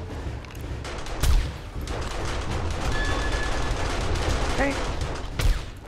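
Defensive guns in 7 Days to Die firing during a zombie horde night: a dense, rapid fusillade of automatic gunfire with a couple of louder bursts, while a person briefly talks over it.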